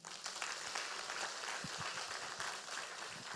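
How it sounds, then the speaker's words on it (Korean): A Sunday worship congregation claps in a soft, distant wash of applause that holds evenly throughout, with a few low thumps underneath. "우리 감사하면 박수 한번 합시다"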